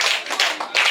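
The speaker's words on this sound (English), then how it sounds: "Let's give her a champagne clap." Children at a school reading marathon give a champagne clap, three quick bursts of hand clapping close to the microphone, each swelling and fading in turn.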